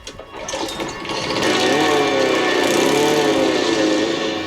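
A lawnmower engine in a 1980s horror film scene whines up from a brief rumble into a loud, steady buzzing drone that holds for several seconds, with no talk over it.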